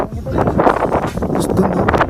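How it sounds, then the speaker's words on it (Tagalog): Wind gusting across the microphone at a seaside boulevard, a loud, rumbling, buffeting roar that stays constant and close, with a voice faintly underneath. "Mahangin."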